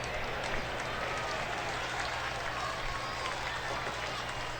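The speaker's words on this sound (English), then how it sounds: "I don't understand why the crowd roars on the away home runs." A baseball video game crowd roars after a home run in a matchup between the Arizona Diamondbacks and the Cincinnati Reds, a dense sustained cheer with applause at an even level that fills the whole stretch.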